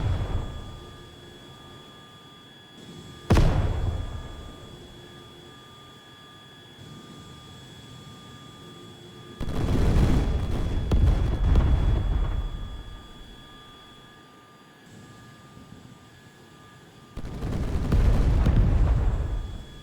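Anti-aircraft gunfire in the combat flight video game Tiny Combat Arena, a sharp blast followed by two longer loud rumbling bursts over a steady aircraft engine drone.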